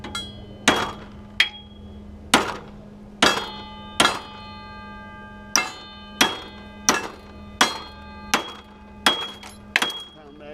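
A hammer pounds a steel tooth down on a tumble plow, a dozen sharp ringing metallic strikes at an irregular, unhurried pace, close and clear against a quiet background.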